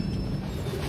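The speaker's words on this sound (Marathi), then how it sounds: "ही ट्रेन येऊची होती समोरनं मेंगलोर मडगाव" A Mangalore–Madgaon MEMU daily passenger train rumbles past, a dense low roar with faint rail hiss, close and steady through a very short stretch with no voices.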